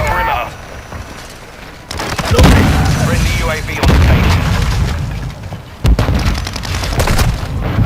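Heavy booming shots from an SPR rifle in Call of Duty: Modern Warfare 2 (2022) multiplayer, three loud single cracks spaced about two seconds apart over constant rumbling battle noise.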